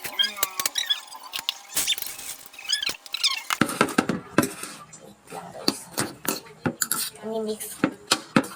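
Utensils clink and scrape against a bowl while palabok noodles are mixed, a busy run of close, sharp taps and scrapes with faint squeaks throughout.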